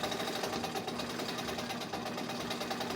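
A Singer 31-15 industrial sewing machine on a servo motor stitches at its longest stitch length, giving a continuous, fast mechanical chatter with a steady rhythmic whir, close and fairly loud.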